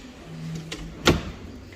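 A drawer on a matte white IKEA dressing table slides open, giving a brief soft rumble and then one sharp knock as it stops, close by in a quiet room.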